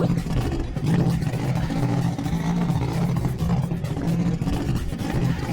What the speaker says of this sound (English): Rickshaw, a small 3-wheeled taxi for short rides.